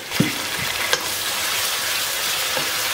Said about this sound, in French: Lorsque vous cuisinez quelque chose que vous faites frire, commencez toujours par mettre des oignons dans l'huile.